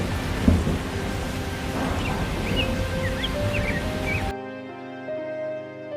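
Cartoon rainstorm with steady rain hiss and rolling thunder, a few chirpy tones over it, cut off near the end by a soft musical passage.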